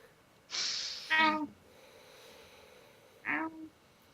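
Several short, quiet sniffs and snuffling breaths close by, with pauses of silence between them.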